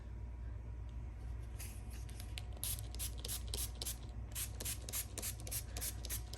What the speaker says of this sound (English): So I'm just spraying it.